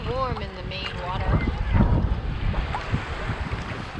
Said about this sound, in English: As long as the surf's coming in, it's a little strong.